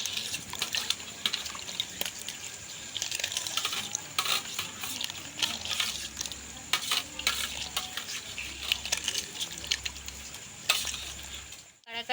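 Rice flour, milk, flour and sugar drops being mixed for mango milk, with busy clicking and scraping of a spoon against the bowl, steady and close, no talk.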